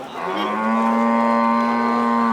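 A single long, loud cow moo at a cattle market, steady and close, held for about two seconds with no one talking.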